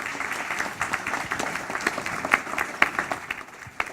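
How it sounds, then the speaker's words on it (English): An audience applauds at the close of a rural research and development event, a dense, steady patter of many hands clapping together, fairly loud and continuous, with a few sharper claps standing out. "So, give yourselves a round of applause."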